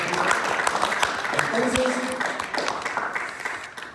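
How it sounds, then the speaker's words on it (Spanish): A church congregation applauds during a pastoral sermon, scattered claps building into a mixed burst under someone speaking Spanish, then thinning toward the end. "Un aplauso."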